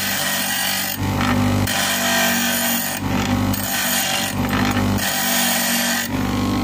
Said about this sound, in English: taking the burrs off, making that round, just on the edge